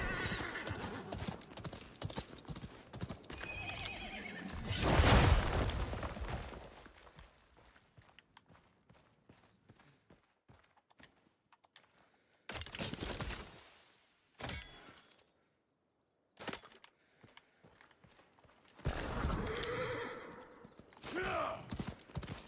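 A horse in a video game trots with steady clip-clop hooves and gives loud whinnying neighs, with the hoofbeats breaking off into short gaps and then returning.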